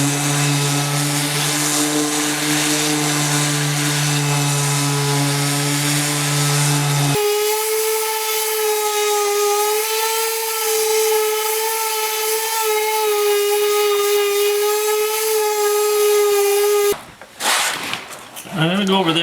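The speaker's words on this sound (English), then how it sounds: "I got a 40 grit on my disc sander, and I'll sand it with this" Disc sander fitted with 40 grit paper grinding body filler during an automotive rust repair, a loud, steady, droning whine that shifts pitch partway through and is cut off by rustling near the end.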